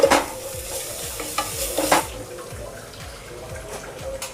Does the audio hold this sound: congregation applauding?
no